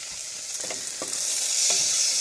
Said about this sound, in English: I'm going to add some prepared garlic in there. Stir that around.